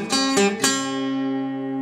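A short acoustic blues guitar lick: three quick plucked notes in a row, the last left ringing and slowly decaying, played close and alone.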